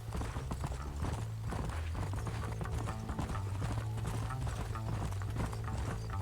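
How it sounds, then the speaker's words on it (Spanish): Horse hooves clip-clop at a steady gallop through the whole stretch in Red Dead Redemption, a continuous rhythmic drumming over a low droning music bed, with no voices. "Monta en tu caballo."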